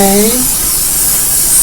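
Hairspray hisses in a steady, loud burst onto a teased, layered wig, running nearly the whole moment with a brief voice at the start.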